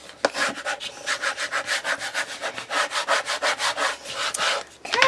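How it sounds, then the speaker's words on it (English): Paper for a scalloped square memory book being rubbed down and burnished by hand, a close, steady series of about twenty rhythmic rasping strokes, back and forth, with no talking. "burnish down, rub down so that it's nice and firm"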